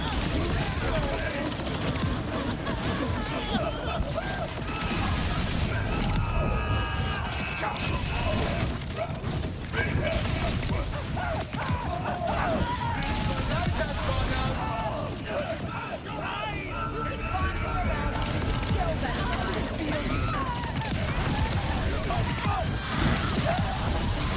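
Continuous SMG gunfire in Borderlands 4, with crystals being shot and destroyed, a dense unbroken rattle of shots mixed with smashing and mechanical game effects, loud throughout and partly under a talking voice.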